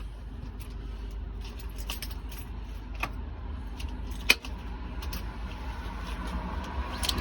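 Keys jangle near an empty factory door, a few faint metallic clinks and one sharp rattle spaced over a quiet room hum, close by and with no one speaking.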